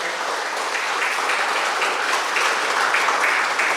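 Steady applause from an audience at a regional tourism ambassador pageant final in Kendal, broad continuous clapping filling the hall at an even level throughout.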